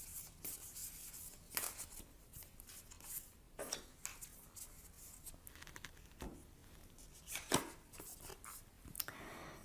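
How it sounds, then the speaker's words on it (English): Soft shuffling, rubbing and flicking of cards as an oracle card is drawn from a Whispers of Love deck, with close, irregular papery taps and swishes and no talking. "I'm going to choose an oracle card from the Whispers of Love."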